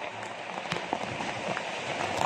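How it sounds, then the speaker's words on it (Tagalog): Steady rain falls and patters on surfaces outdoors during a flood, a dense hiss with scattered drops that grows slightly heavier toward the end. "Sana huwag na lumakas yung ulan."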